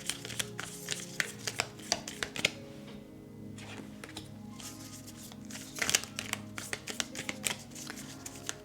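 An unusually shaped tarot card deck shuffled by hand, giving steady close crinkling, riffling and papery slapping with sharper snaps scattered throughout, briefly quieter in the middle.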